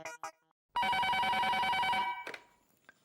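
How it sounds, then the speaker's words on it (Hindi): An old-style telephone bell rings loudly in a home for over a second, a continuous metallic trill, preceded by brief sounds and followed by a quiet tail. "टप्पू के पापा को फोन करके बताती हूँ।"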